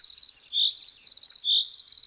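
A field cricket chirps from the grass in a close, steady high trill, swelling twice into louder bursts, with no other sound around it.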